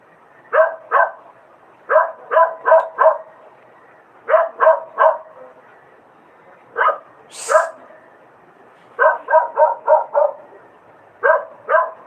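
A dog barks repeatedly in quick bursts of two to four barks separated by short pauses, fairly close and loud, with no talking.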